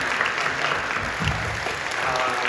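A church congregation at a Friday night prayer service claps warmly, giving a dense, continuous wash of applause with no break.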